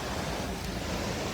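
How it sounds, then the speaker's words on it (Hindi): A mountain stream near Manali, swollen by floodwater after a cloudburst, rushes past in a steady, loud, broadband roar with no voices. "अब देखो नाला कितनी भयंकर तरीके से आ गया है"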